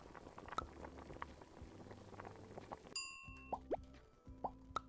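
A pot bubbles and plops in a cartoon cooking game set in Bone's Cafe, with water, onion and wine going in; irregular gurgling pops are joined by bright chiming dings and clanks near the end.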